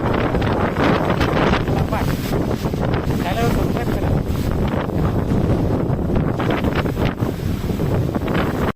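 Strong, unseasonal storm wind roars across a village as rain begins, a constant loud buffeting rush, with someone speaking briefly.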